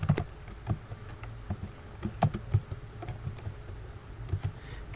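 Keys clatter on a computer keyboard while entering code for a prime number checker in Microsoft Excel VBA, irregular bursts of soft, close clicks with short pauses, no talking.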